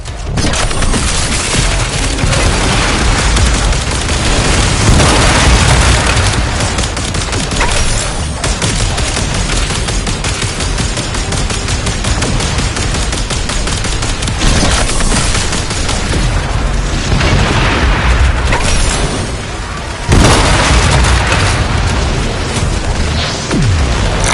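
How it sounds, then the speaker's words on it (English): Continuous barrage of bombardment explosions in the video game Warframe, a dense, loud roar of booms and rapid bursts rolling on without pause, with a brief dip near the end before the blasts resume. "Bombardment inbound."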